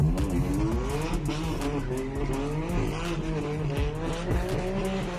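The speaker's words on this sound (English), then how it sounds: "That's a nice sounding S55, isn't it? Sounds very responsive." A BMW M car with an S55 engine races hard. The loud, continuous engine note rises and falls through gear changes, with tire squeal mixed in.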